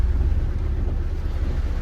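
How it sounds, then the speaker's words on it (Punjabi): Wind blows outdoors on an overcast day in rural Punjab, making a loud, steady low rumble and buffeting against the microphone, with no voices. "ਪੂਰਾ ਬੱਦਲ ਘੁਲਿਆ ਵਾ ਹਵਾ ਚੱਲ ਰਹੀ"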